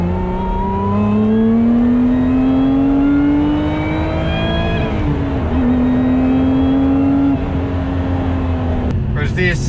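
A 2025 Lotus Emira Turbo SE engine pulls steadily with a rising drone and a mechanical clatter underneath, heard from inside the car while a person talks over it, before easing off near the end.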